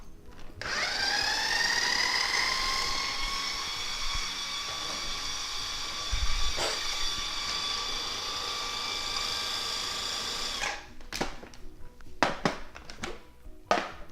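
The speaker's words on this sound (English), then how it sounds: "We're gonna go ahead and get this finely chopped" A large bunch of herbs is finely chopped for soft chicken tacos: a steady, loud, high motor whine runs for about ten seconds, then stops, followed by a few light clatters.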